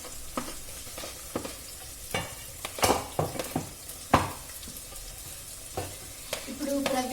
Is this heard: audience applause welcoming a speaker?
no